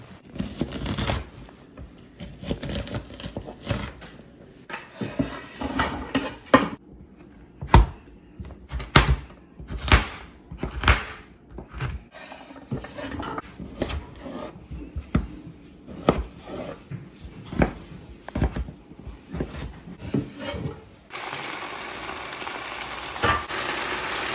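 Vegetables chopped for soup in a home kitchen, with a steady run of sharp knife strikes on a cutting board, close and fairly loud, broken by brief pauses and a softer, more continuous rustle near the end.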